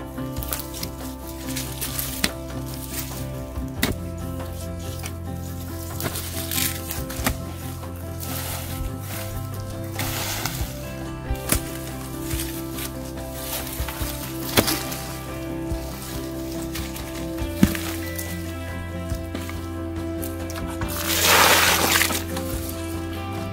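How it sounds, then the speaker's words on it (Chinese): Digging a hole in garden soil to plant a tea tree: scattered scrapes and chops of a tool in earth, fairly faint, over a steady low hum, with a brief louder rustle near the end. "好，那我们现在开始挖。"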